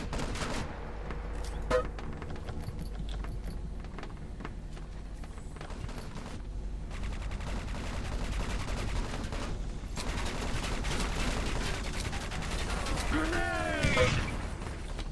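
Gunfire and explosive bursts in a 6v6 competitive shooter match, sharp rapid shots scattered through a busy mix of game effects and mechanical clatter, with a bright sweeping effect near the end and faint voice chatter underneath.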